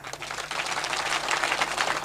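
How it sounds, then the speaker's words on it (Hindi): A crowd at a mushaira poetry gathering breaks into applause, starting with a few scattered claps and then building into a dense, steady patter of many hands that stays strong to the end. "यहां बजाओ तालियां"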